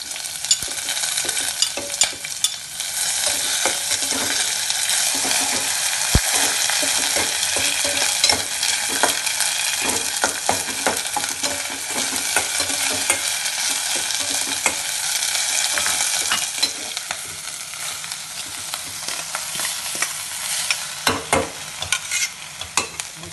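Green chillies and ginger-garlic paste fry in a pot for restaurant-style pot biryani, giving a loud, continuous crackling sizzle with frequent stirring clatter throughout, and no voices.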